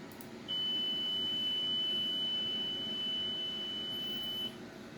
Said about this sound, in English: the beeping sound is actually random. Sometimes it does 2 beeps, sometimes it does 5 beeps